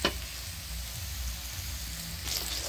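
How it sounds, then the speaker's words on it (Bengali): Oil sizzles and crackles steadily as young jackfruit fries in a pan, a close, continuous hiss with a brief stirring scrape near the end. "এঁচোড়টা একটু আমি হালকা করে ভেজে নেব"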